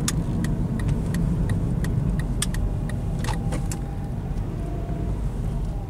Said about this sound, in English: I'm going to pull over, and I'm going to allow the vehicle to idle for a couple more seconds.